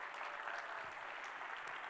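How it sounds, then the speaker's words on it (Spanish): A congregation applauds during a Spanish-language church service, with steady, dense clapping filling the room for the whole stretch and no talking over it. "Apláudalo fuerte."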